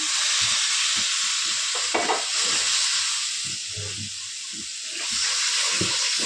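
Loud, continuous sizzle and hiss of spices frying in oil, with scraping stirring sounds and a surge of steamy hiss partway through as water is added, while cooking a crab curry.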